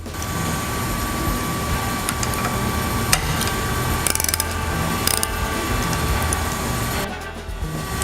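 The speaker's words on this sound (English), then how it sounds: "we're going to loosen the pinch bolts on the upper triple tree" A ratchet wrench loosening the pinch bolts on a motorcycle's upper triple tree during a lowering kit install, with bursts of fast clicking over a steady background hum.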